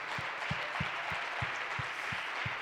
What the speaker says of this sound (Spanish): Yo creo que Él merece un aplauso más fuerte todavía.